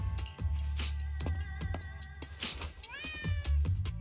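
A mischievous orange cat in the video game Zenless Zone Zero meows several times, close and clear, over soft game music and scattered sharp effects.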